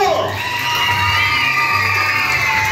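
A loud crowd of children cheering and shouting at a school posada at Escuela Luis Gzz y Gzz in Misión San Juan, with high excited voices and whoops held in a steady din close by and clapping barely distinct within it.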